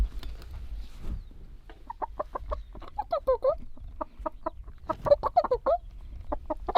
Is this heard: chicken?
yes